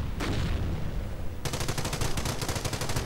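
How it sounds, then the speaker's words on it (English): An anti-tank gun fires in a video game battle, a short burst of shots near the start, then after a pause a long, dense run of rapid rhythmic reports that lasts to the end. "Anti-tank gun continuing to fire away"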